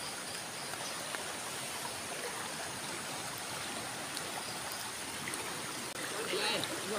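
A swollen river in heavy flood rushes past in a steady, broadband roar of flowing water, close and unbroken, with a slight surge toward the end.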